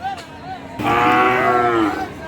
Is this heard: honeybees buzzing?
no